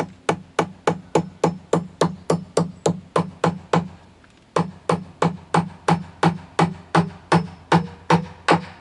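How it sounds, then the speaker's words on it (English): Steady, forceful hammer blows striking nails into wood while building car ramps, about three per second, with a short pause before the pounding resumes. "now you can choke back on the hammer, get more swing on it"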